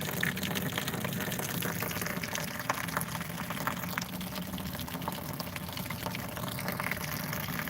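Cold water flowing steadily into a solar hot water system with a single panel, a continuous broadband rushing and trickling wash that holds at an even level throughout with no pauses.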